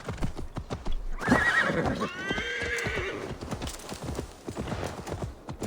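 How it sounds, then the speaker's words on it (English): A horse in the game Assassin's Creed Valhalla whinnies loudly with a rising, wavering neigh, surrounded by steady clip-clop hoofbeats and a voice talking over it. "Now let's get the horsey."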